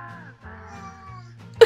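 A domestic cat lets out a drawn-out, wavering meow up close, followed by a shorter call and a brief sharp noise at the very end.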